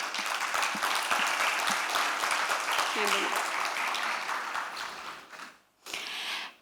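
Strong audience applause welcomes a panelist at a climate-finance panel, dense sustained clapping that fills the room and then drops away briefly before a last burst returns near the end.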